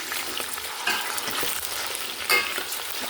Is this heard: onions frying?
yes